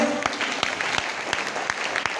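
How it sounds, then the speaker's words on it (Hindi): Audience applause at a talk or seminar, a steady wash of clapping with sharper individual claps standing out, loud and continuous throughout. "ताली जोरदार हो जाए"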